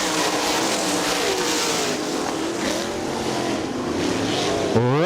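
Sprint race cars roar out of the fourth turn at a 2002 Great Lakes Outlaw Super Sprints race at Butler, a loud, continuous engine drone with pitch sweeps as cars pass, ending in a sharp rising rev.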